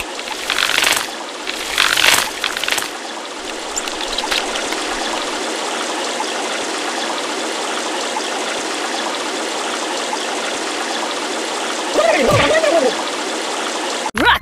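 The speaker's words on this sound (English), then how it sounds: "Water everywhere. I'm being liquidated." Continuous rushing, trickling water in the video game Kick The Buddy 2, with splashy bursts near the start and again near the end, steady and fairly loud throughout.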